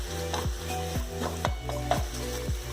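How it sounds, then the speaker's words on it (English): Ground meat sizzling in a frying pan while a utensil scrapes and stirs it, with regular scraping strokes about every half second over a low steady hum. "just moving it around the pan so that it cooks evenly"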